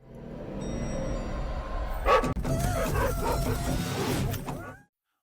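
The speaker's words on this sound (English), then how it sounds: "a guard dog suddenly chases her" A guard dog gives chase outdoors at a forest staircase exit, its barking rising out of a dense, noisy scene with a sharp burst of activity midway before everything cuts off abruptly.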